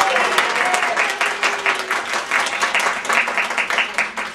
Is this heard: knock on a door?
no